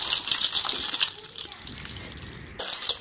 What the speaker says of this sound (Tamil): மிக்சருக்கு நம்ம வந்து கடைசியாக கருவேப்பிலை நல்லா பொரித்து எடுத்துக்கிறோம்.